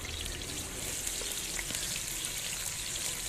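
Rice and onions fry in hot oil in a pot, a steady, even sizzle and crackle that holds without pause at moderate loudness, with no talking over it.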